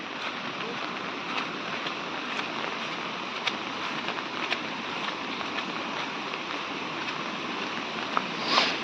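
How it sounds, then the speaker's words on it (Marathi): Water flowing and splashing near a water tank in a village during continuing rain, a steady broadband rush that stays fairly even throughout with a slight swell near the end. "पाण्याचा मित्रांनो आवाज बघा किती येतोय"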